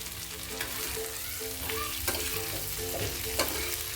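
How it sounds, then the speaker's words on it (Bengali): Barbecue chicken tikka sizzles with melted butter in a pan while being turned over, a steady frying hiss broken by periodic scraping strokes of the spatula and small clacks, close and fairly loud. "এখন একটু উপর নিচ করে নাড়াচাড়া করে দেবো"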